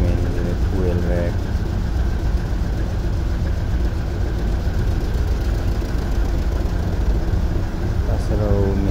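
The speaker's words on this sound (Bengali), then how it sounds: "তাছাড়াও মেইন ইঞ্জিনের জন্য আনুষঙ্গিক বিভিন্ন রকমের পাম্প থাকে, সেগুলা এদিকে আছে।" Ship's engine room with the main engine and its auxiliary pumps running, a dense, loud, unbroken mechanical roar and hum. Brief bits of speech are partly buried under the noise.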